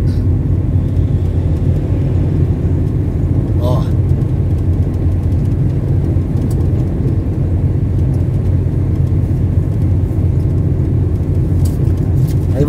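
An unmarked police car drives past on a street in Diamante do Norte, Paraná, giving a continuous close low engine rumble with road noise and a short chirping sound partway through.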